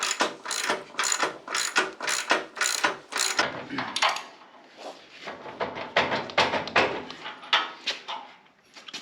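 A ratchet tightens heavy 3/4-inch coilover hardware on a daily-driver rat rod, giving close, rapid bursts of clicking strokes, a brief lull near the middle, then more quick runs of clicks.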